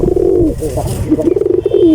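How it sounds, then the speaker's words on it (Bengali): A male pigeon coos to a female during breeding, making loud, close, throaty rolling coos in a continuous rippling run with slight pulses. "মাদিটাকে ইমপ্রেস করার জন্য দেখেন কিভাবে ডাকতেছে"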